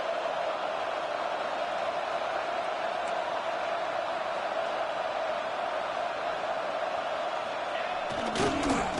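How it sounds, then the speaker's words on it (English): Crowd noise from the NCAA 26 college football video game fills the stadium with a broad, continuous roar at moderate level, ending with a brief clatter of louder activity. "Listen to the crowd energy here in the early going. This is a tough environment for visitors."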